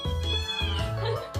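A neighbor's cat meows loudly and close by, giving three drawn-out, wavering cries in quick succession.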